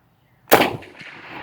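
A single loud, sharp gunshot from a Gew 98 bolt-action rifle bursts out after a moment of silence, followed by a decaying outdoor echo.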